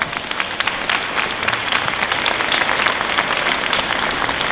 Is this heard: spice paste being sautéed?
no